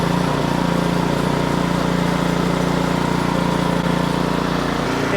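Ariens Professional 28-inch snowblower engine running steadily just after a pull start with choke down and throttle up, a loud, even buzzing roar close by with no talking.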